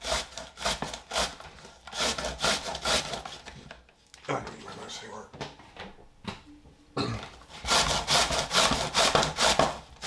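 Potatoes are shredded on a box grater with rapid rhythmic rasping strokes, close and loud, in two bursts separated by a quieter pause.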